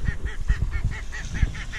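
Live decoy ducks of several kinds, including mallard, wigeon and pintail, calling at a duck-hunting blind. A rapid, even run of nasal honking quacks repeats about five times a second, close and fairly loud.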